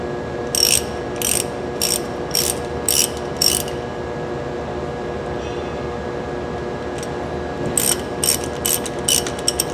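Ratchet wrench loosening a hex drain plug on the bottom of an LC brake unit during a major service: two bursts of quick, crisp clicking, six or so rapid strokes early and another cluster near the end, close and clear over a steady background hum.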